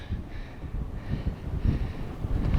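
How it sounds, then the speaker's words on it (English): Steady wind buffeting on a mountain pass in Montana's Bob Marshall Wilderness, a low rumbling roar that swells and gusts throughout with no voices. "Still windy."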